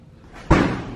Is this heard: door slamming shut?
yes